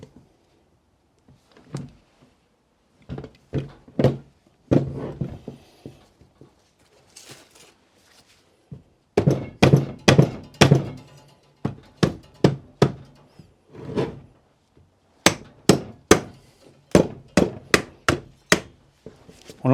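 Hammer blows strike a stuck engine part to free it during a teardown, sharp metallic knocks in irregular bursts, some rapid clusters of hits, near and loud with short gaps between.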